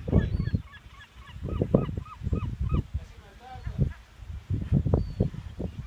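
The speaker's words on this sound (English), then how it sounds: "There are seagulls attacking the chicken." Seagulls on Block Island attack a chicken, squawking and crying in loud, close bursts that come in clusters over several seconds, with brief quieter gaps between.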